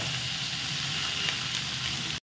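Vegetables sizzle and fry in a pan with spiced fish, a steady, close, bright hiss with faint crackles throughout, cutting off abruptly at the end.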